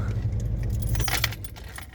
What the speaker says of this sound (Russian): Заглушим машину.